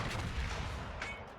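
Bismarck's secondary battery in World of Warships opening up in a German battleship division, rapid gunfire and booming shots rolling together in a dense, loud, continuous barrage with no talk.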